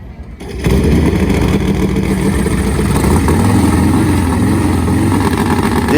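A nitro-fuelled Harley drag racing motorcycle engine runs loud and close, a steady heavy rumble starting abruptly after a brief quiet moment and continuing without a break.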